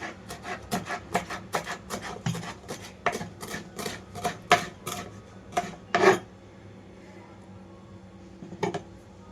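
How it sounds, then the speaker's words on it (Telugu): A knife chops washed coriander leaves for tomato chutney on a cutting board, a quick and fairly even run of about fifteen sharp, close strokes, then a short pause and one final cut. "కొత్తిమీర కట్ చేసి ఇందులో కలుపుకుంటున్నాను."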